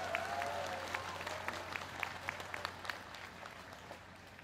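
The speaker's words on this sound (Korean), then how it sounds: "큰 박수로 화답해 주시기 바랍니다" An audience at a presidential farewell speech applauding, a steady wash of clapping with scattered distinct claps, moderately distant and sustained.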